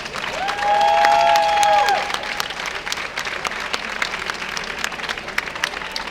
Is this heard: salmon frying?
no